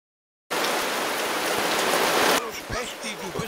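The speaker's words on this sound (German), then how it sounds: "das regnet mir jetzt so doll" Heavy rain starts abruptly as a loud, close, dense patter, then drops to a lighter, scattered pattering with distinct drips near the end.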